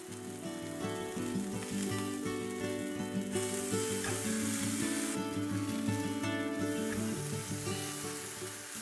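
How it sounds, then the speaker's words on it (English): Luncheon meat sears in avocado oil over medium heat for a plant-based musubi, giving a steady, loud sizzle and crackle that fills the whole stretch with no voices. "Place in the luncheon meat. Sear for about 2 minutes on each side."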